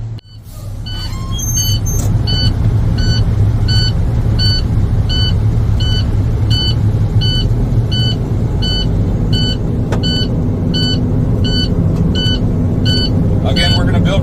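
Truck engine just started with the key during a CDL pre-trip inspection, settling into a loud, steady low idle rumble, with a regular train of high electronic beeps repeating over it for most of the clip.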